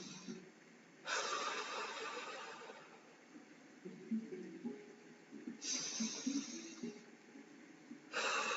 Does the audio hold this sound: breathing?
yes